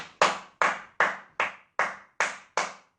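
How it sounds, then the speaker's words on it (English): Hands clap eight times at an even, moderate pace, each clap crisp and close with a short decay and silence between them. "If you clapped 8 times"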